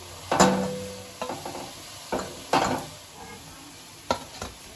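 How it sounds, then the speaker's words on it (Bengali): Bottle gourd dhoka pieces being fried in oil in a pan, soft background sizzle broken by several sharp utensil clinks and scrapes as pieces are turned and lifted, nearby. "এইভাবে কিন্তু আমি সমস্ত ধোকাগুলো ভেজে নেব।"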